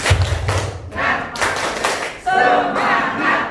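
A group claps in rhythm with sharp thuds and shouts together in a chant, loud and close, with voices cheering over the beats.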